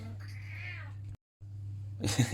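A pet cat meows needily indoors, one long drawn-out close meow followed after a brief pause by a rougher, louder vocal burst, with no speech over it.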